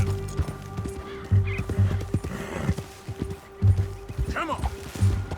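A horse in Red Dead Redemption 2 gallops with rhythmic, close hoofbeats and lets out a whinny, while a rider's voice speaks over the riding.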